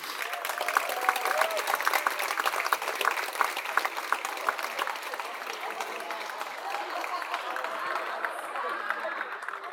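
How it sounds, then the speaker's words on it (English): Steady, loud applause from a cooking-contest crowd, a dense wash of clapping with some cheering mixed in, lasting the whole ten seconds. "Give a massive round of applause to George and Dave!"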